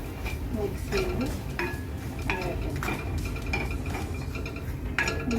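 A metal spoon scrapes and clinks against a pan while mixing egg puff filling, sharp taps recurring every half second or so, close and fairly loud over a low background hum.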